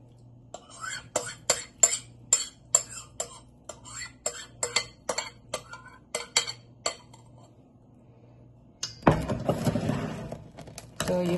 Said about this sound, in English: So the next step is mixing the wet ingredients together with the dry ingredients.